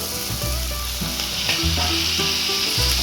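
Fried bhola fish head dropped into a hot cooking pan, giving a loud, steady oil sizzle and frying hiss with a few stirring clinks, continuous throughout and no talk.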